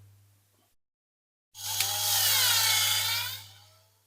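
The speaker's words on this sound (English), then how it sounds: "let's just drill through these holes and see how we go" Small drill with a 2mm bit boring through a diecast toy's rivet holes, a close whirring burst of about two seconds after a brief silence, rising and then fading out, with a low steady hum underneath.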